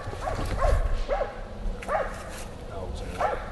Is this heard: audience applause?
no